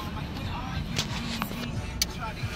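Steady road rumble and cabin hum fill the inside of a moving car, with a few faint clicks and short tonal bits over the constant drone and speech in the background.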